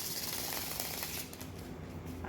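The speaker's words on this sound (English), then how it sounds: "Let me get a good shuffle," A deck of tarot cards is shuffled close up, a continuous crisp riffling that briefly pauses and then resumes.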